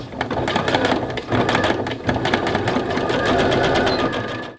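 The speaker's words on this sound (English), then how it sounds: "now I'm just going to sew a little row of straight stitches just straight across the elastic to create a loop" A sewing machine stitches a straight row across fold over elastic at a waist opening, a fast continuous mechanical whirring and tapping with one brief pause, close and loud, with no talking.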